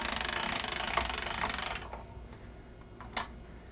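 Floured pasta dough being rolled into linguine sheets through a pasta machine makes a steady, close mechanical rumble and whir that runs for nearly two seconds and then stops, leaving faint handling clicks.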